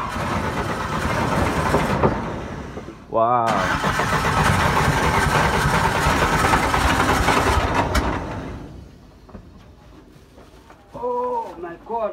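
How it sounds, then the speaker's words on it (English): Boat engine on the Mekong in Laos being started, cranking and catching into a rough idle, then cutting out with a short quieter stretch before sputtering again; a person exclaims and talks nearby. "Having a little bit of trouble getting the boat going."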